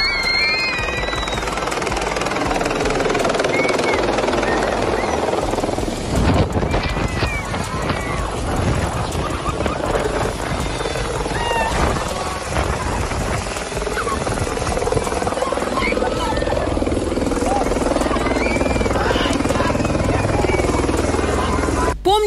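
A helicopter carrying the head of Dagestan sets down beside a school, its steady rotor roar and blown wind filling the whole stretch at close range, with voices and crowd noise mixed underneath.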